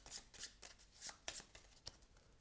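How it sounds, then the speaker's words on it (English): A deck of game cards being shuffled by hand during a solo tabletop game, a quick run of crisp riffling bursts, soft and close with no voices. "We'll shuffle the Tempest deck."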